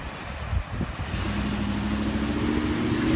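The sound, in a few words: truck trailers passing at a railroad crossing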